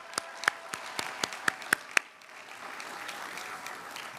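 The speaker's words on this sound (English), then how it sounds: "Let's give our family a round of applause to thank them for all their support." At a Columbia convocation, the audience claps: a handful of distinct, sparse claps ring out over a soft wash of applause that fades to a low murmur.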